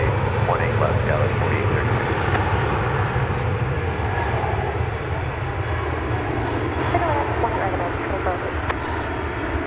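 An airliner at DFW Airport rumbles steadily at a distance in the evening, a continuous broad engine roar, with a commentator talking over it.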